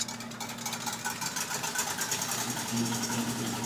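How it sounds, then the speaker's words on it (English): A clean stand mixer whips egg whites for Belgian waffle batter, giving a steady, fairly loud motor whir with a constant mechanical hum and no voices. "we're going to get these egg whites going in our clean mixer"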